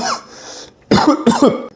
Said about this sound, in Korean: 기침하지 마세요